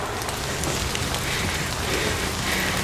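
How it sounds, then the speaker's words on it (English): Rain pattering steadily onto leaves and the ground in woodland near Derwent Water in Keswick, a close, even hiss of drops that carries on without a break and with no talking. "It's still raining."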